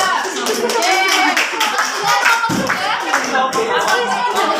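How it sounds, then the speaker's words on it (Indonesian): A class clapping hands in a classroom microteaching session, loud and close, dense overlapping claps sustained throughout with children's voices mixed in. "Kita berikan tepuk tangan dulu untuk Mama Buga"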